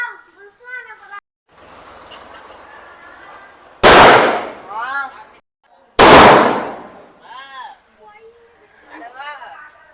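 Two loud, sharp firecracker bangs go off a couple of seconds apart, with children's voices talking and calling out before and between the blasts.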